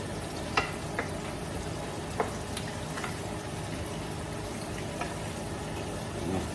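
Chicken heart adobo crackles and bubbles in a pan as it is stirred, giving a dense, steady frying noise marked by a few brief spoon knocks, close by, with no voices.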